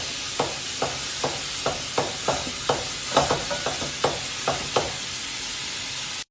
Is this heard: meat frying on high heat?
yes